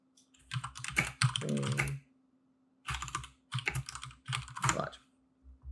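Bursts of typing on a computer keyboard, quick clustered keystrokes in three runs separated by short pauses, close and fairly clear over a faint steady hum.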